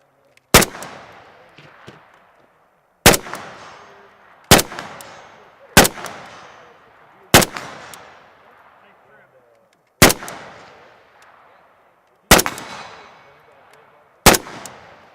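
Century Arms VSKA rifle fired at a range, eight loud, sharp single shots at uneven intervals of one to two seconds, each cracking report trailing off with a short echo.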